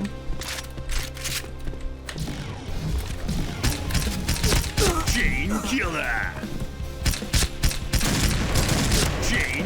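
Gunfire in a Thai online shooter game, bursts of rapid shots and booms in a busy, layered exchange, with someone talking excitedly over the action.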